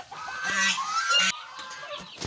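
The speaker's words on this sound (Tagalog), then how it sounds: "Silipin ko lang yung mga sisiw guys." Two-week-old brown Dekalb chicks in a coop make a close, continuous chorus of clucking and peeping, with a few sharper bird calls breaking through the dense fowl chatter.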